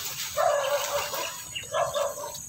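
Dogs bark outdoors: a few loud barks in two short bursts, close by, with a faint murmur of background noise between them.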